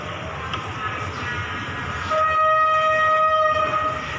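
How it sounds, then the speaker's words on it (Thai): An ordinary Thai passenger train, number 202, rumbles steadily nearby, with a sustained tonal whine rising in pitch partway through, like brakes or a horn, over continuous rolling noise. "เนี่ยเป็นรถธรรมดา202นะครับ"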